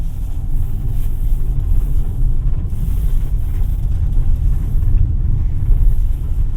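A 2024 Kia Seltos EX driven around a course, heard from inside as a steady low road rumble and engine drone with some wind noise, continuous and without talk.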